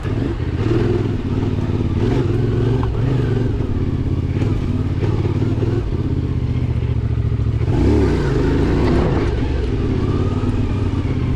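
A CFMOTO Ibex 450 enduro motorcycle accelerates on an intermediate enduro trail, its engine droning loud and close throughout with rising revs and mechanical clatter, with no talking.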